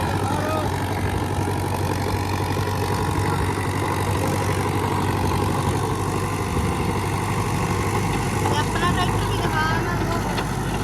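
Sonalika 60 DI 4x4 tractor with a 4812cc diesel engine idling at a farm during wheat sowing, a steady low rumble continuing for about eleven seconds while people talk nearby.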